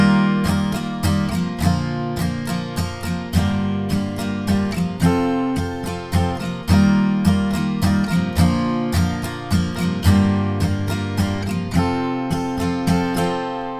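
Acoustic guitar strums the simple verse chords of a song, steady repeated strokes with one pattern per chord, close and clear with no voices.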